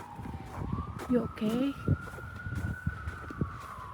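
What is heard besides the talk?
police car siren outdoors during winter storm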